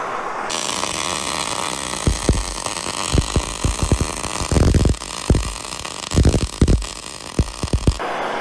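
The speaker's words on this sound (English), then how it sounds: "I think we're just about to start welding." MIG welding with a Vulcan OmniPro 220 on a Dana 14-bolt axle housing being trussed: a steady loud arc hiss with irregular crackling pops and sputters through the weld, starting and stopping abruptly, no voices.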